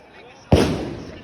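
A single sharp firecracker bang bursts loudly at a street celebration of an RCB cricket win, breaking over a low murmur and trailing off into a rough, noisy decay.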